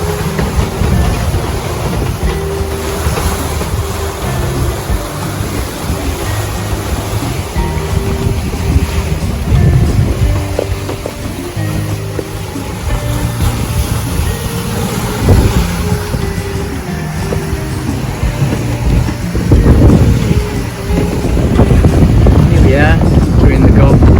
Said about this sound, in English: you guys can just enjoy the sound of the waves and watch this